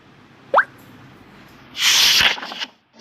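Cartoon water effects of a figure diving into water: a quick rising plop, then a burst of splashing that trails off after about a second.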